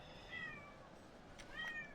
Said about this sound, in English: my cat wants attention